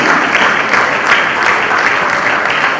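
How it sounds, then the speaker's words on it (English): Loud, dense applause from an audience of students at an Edo State education policy launch, steady and unbroken as a woman is welcomed to the podium. "let us usher her on again with a resounding round of applause"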